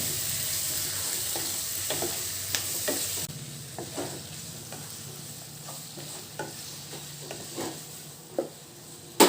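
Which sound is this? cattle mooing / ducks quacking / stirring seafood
stirring seafood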